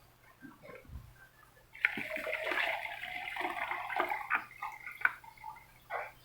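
Water pours and splashes out of a 5-liter Black Pearl container in a sustained gushing burst lasting several seconds, with a few drips and sloshes before and after, close and fairly loud.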